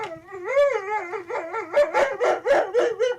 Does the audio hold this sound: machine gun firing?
no